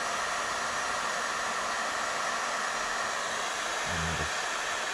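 A heat gun blowing hot air to heat plastic on a truck's suspension, a loud, steady whooshing roar running unbroken throughout, with a brief low thump near the end.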